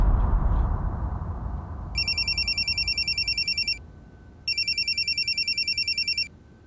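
A telephone bell rings in two long bursts of rapid trills separated by a short pause, loud and close over faint background noise.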